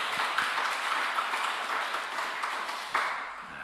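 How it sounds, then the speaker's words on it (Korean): A congregation claps during a church service, a dense, even wash of applause that holds steady and fades slightly near the end. "하나님께 영광의 박수하겠습니다"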